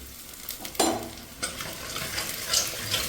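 Half a tablespoon of finely chopped ginger hits a hot pan with green chillies for Kerala-style sadya rasam, giving a sudden close sizzle burst followed by continued frying hiss and occasional stirring scrapes, with no voices.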